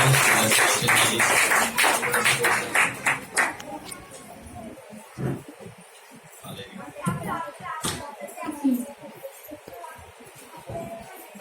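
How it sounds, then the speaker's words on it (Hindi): A church congregation claps hands in thanks to God, a loud crowd of rhythmic claps at the start that fades into scattered taps and quieter talk. "हम ताली बजा के परमेश्वर को धन्यवाद देंगे"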